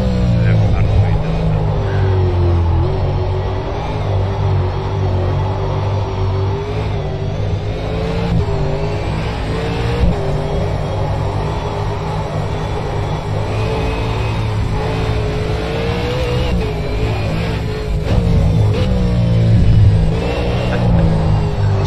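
A V8 Supercar engine in a racing video game drones steadily at high revs, rising and falling slightly through drifts, with people talking over it.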